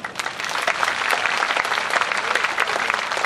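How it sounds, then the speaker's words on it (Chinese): A rally crowd in Kaohsiung applauding, dense sustained clapping from many people, loud and even throughout with no break. "所以我觉得所有的台湾公民跟我们年轻的学子都应该给自己最大的掌声"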